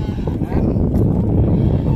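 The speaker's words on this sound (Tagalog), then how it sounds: "Ayan guys, ang baboy oh." A pig on a farm, kept for butchering, gives off a continuous, loud, close grunting and squealing, with people talking over it.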